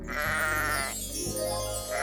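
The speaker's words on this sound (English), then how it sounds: "It's a sheep." A sheep bleats in a long, wavering call, loud and close and heard alone, from a children's cartoon about farm animals.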